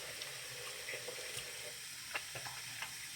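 Tap water running steadily into a sink while hands are washed, a continuous close splashing hiss with a few small splashes and no talking.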